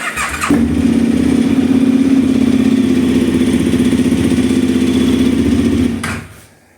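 An ATV quad bike engine cranks and catches, then runs at a steady, loud, close rumbling idle for several seconds before cutting off and fading out, with no speech.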